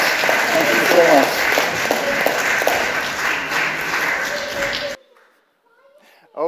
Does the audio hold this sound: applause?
yes